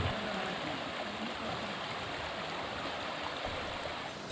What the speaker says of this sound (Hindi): बारिश से नदी में तेज बहाव